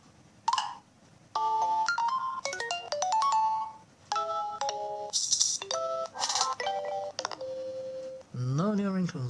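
Android Lollipop ringtones and notification tones play on a Nexus 5 phone, a series of bright melodic chimes and tone sequences with short gaps between them, ending in a rising bouncy sweep.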